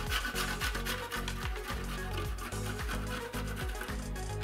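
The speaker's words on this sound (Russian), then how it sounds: "Теперь натираем 30 грамм грецкого ореха" Walnuts rubbed on a fine grater make a continuous, rhythmic rasping in quick repeated strokes, loud and close, with no talking.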